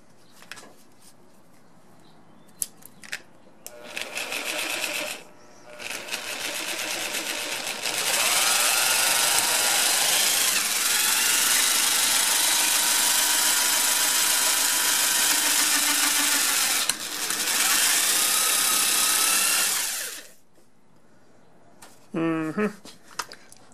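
A power drill whines loudly in long sustained bursts while drilling down into a metal hose bibb, its pitch wavering under load, with short starts and stops and quiet gaps between.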